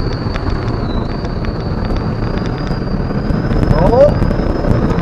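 Turbo spooling on a Jeep Comanche truck, a thin high whistle held steadily over the loud engine roar and road rumble inside the cab, rising slightly near the end.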